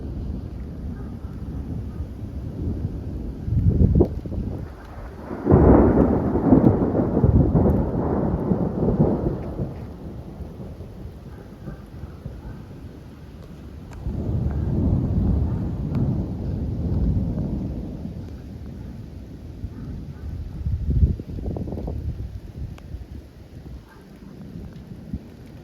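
Severe thunderstorm moving into Wichita, Kansas, under a shelf cloud, with several long rolling thunder rumbles, some loud and near, over steady rain and gusts of wind noise.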